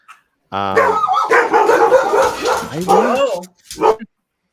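Dogs bark and yip close by in short, loud bursts, with people talking and laughing over them.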